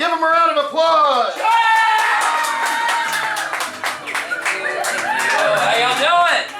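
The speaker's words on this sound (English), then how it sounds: "Give him a round of applause!" An audience at a comedy show claps, cheers and whoops to welcome comedian John onto the stage. The clapping is dense and close, with excited voices and shouts over it throughout.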